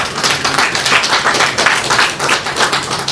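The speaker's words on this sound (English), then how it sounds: "I think that deserves a round of applause" At an institute induction and investiture ceremony, a crowd applauds the new members, a brief, close burst of many hands clapping in a dense, slightly surging wash.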